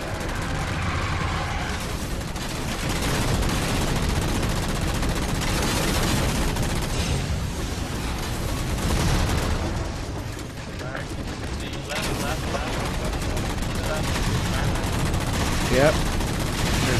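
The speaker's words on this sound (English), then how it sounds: "Sorry, shooting a banshee." Sustained rapid gunfire aimed at a Banshee aircraft in Halo 4, a dense continuous barrage of shots mixed with game effects and mechanical clatter, with voices talking over it throughout.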